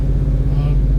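A 1967 Chevrolet Chevelle SS with a rebuilt engine idles close by in a steady, loud low rumble that holds its level for about a second.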